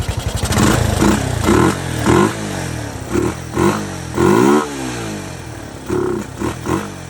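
A 1981 Yamaha SR185 motorcycle with an aftermarket carburetor and Ignitech TCI ignition revs repeatedly, the single-cylinder engine rising and falling in short bursts of acceleration, close and loud with no talk.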